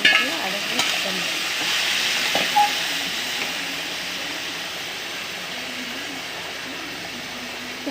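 Boiled vegetables for aviyal being mixed with freshly ground coconut in a pan: a soft, continuous scraping stir with a faint sizzling hiss throughout, close and steady.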